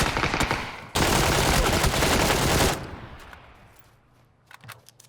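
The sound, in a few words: suppressed sniper rifle gunfire in PUBG video game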